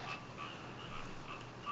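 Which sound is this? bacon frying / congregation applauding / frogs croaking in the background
frogs croaking in the background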